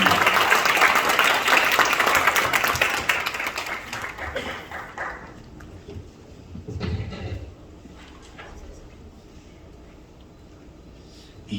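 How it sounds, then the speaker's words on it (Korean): A church or forum audience in Incheon gives loud, dense applause to welcome a Methodist bishop to the stage, the clapping swelling at first, then thinning and fading over several seconds. "큰 박수로 맞아주시기 바랍니다"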